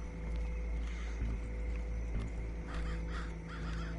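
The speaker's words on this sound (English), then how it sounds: "I hear birds." Crows cawing in the video game Far Cry 5, several harsh caws repeating over a steady low ambient hum, fairly close and clear.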